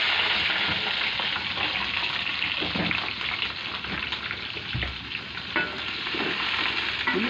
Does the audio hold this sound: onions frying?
yes